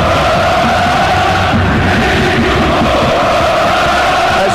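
Large football crowd filling the Olympic stadium at the 2008 CAF Confederation Cup final between CS Sfaxien and Étoile du Sahel, a steady dense roar of massed voices chanting and singing throughout, loud and continuous with no pauses.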